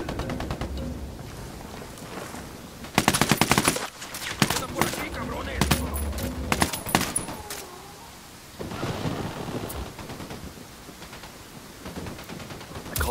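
Gunfire in the video game Ghost Recon Wildlands, with loud bursts of rapid automatic fire in clustered volleys and pauses between them, plus game voices talking at the start and in the quieter stretches.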